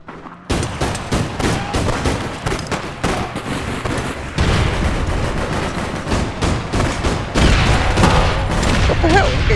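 Dense, rapid gunfire in the video game APB Reloaded. Bursts of automatic shots crackle almost nonstop, loud and close, with heavier booming reports layered in.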